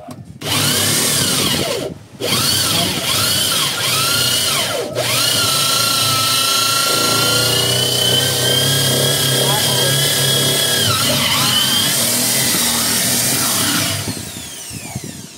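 A power drill with a metal bit boring into wood, its steady whining drone running almost continuously with two short breaks and pitch dips, loud and close while people talk over it.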